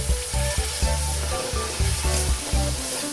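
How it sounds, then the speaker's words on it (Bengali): Spice paste of chili powder and turmeric, with a little water added, sizzles and spatters in a hot pan as it is stirred, with a dense close frying hiss and rhythmic scraping strokes. "মশলাটা কষিয়ে নেব।"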